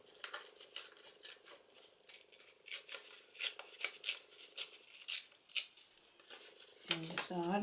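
Paper being torn by hand for a window-flip card craft, a run of crisp ripping and rustling bursts close to the mic, ending in a brief murmur of voice.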